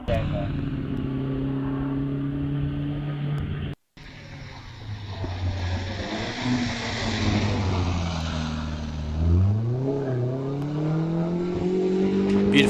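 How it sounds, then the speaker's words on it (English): A Humphrey ERA racing car pulls away from the start line at a hillclimb, its engine note rising and falling in strong gear-change sweeps, heard at a distance under a commentator's voice. "As the lovely Humphrey ERA leaves the line down there."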